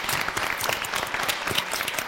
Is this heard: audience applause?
yes